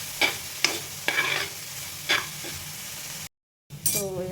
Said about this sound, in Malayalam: ഇതിൻ്റെ ഒരു പച്ചമണം മാറുന്നവരെ നന്നായിട്ട് സ്റ്റിർ ചെയ്ത് കൊടുക്കുക.